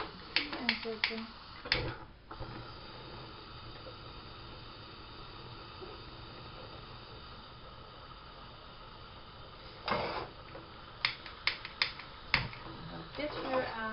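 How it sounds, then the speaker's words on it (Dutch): A gas stove burner igniter clicks in sharp bursts, a quick cluster at the start, then another rapid series later, each click crisp and close against a quiet background hiss. "En dan ga ik gelijk het vuur aanzetten."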